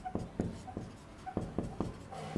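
Chalk or a marker taps and scratches across a board as a word is written, a run of short, quick strokes in an irregular rhythm, close and moderately quiet.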